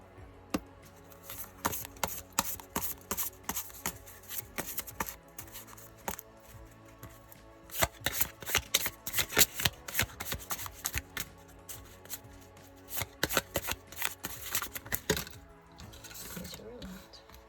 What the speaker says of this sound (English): I'll shuffle these